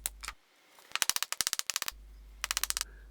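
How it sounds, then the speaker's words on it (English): A hammer taps wooden wedges into a wooden mallet held in a clamp, delivering rapid sharp strikes in two quick bursts separated by a short pause, loud and close with a low hum between. "Tap everything with the hammer until you're happy with the fit."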